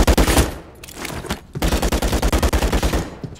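Rapid automatic gunfire aimed at an enemy turret in the Call of Duty video game: loud, close machine-gun bursts with a short pause, then a long sustained rattle of evenly spaced shots.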